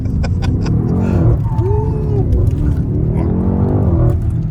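BMW X6M engine droning low and steady inside the cabin while driving, with people talking over it throughout.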